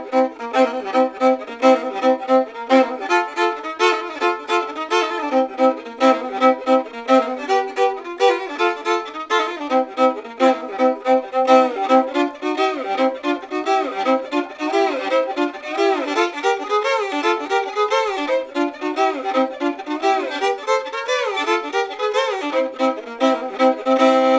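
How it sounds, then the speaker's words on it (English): A solo fiddle plays a boogie woogie tune that puts all three variations together, including the shuffle slide, in a lively, steady run of bowed notes and double stops with sliding pitches, close up and unaccompanied for the whole stretch. "the Boogie Woogie Shuffle Slide"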